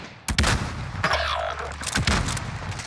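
Gunfire in the video game Warzone: a few sharp, close shots and bursts over a short stretch amid game noise.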